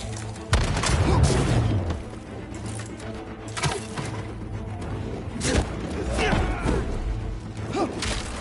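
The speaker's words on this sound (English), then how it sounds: "Missiles incoming!" Missile explosions in the Spider-Man 2 video game: repeated heavy booms and thuds with whooshes over a constant low rumble, loud and dense, with several strong blasts.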